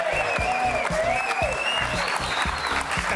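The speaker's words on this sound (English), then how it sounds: "Keep the applause going, Fletcher and Heidi." A crowd claps steadily at a live show, dense even applause throughout with tonal whistles or cheers gliding over it.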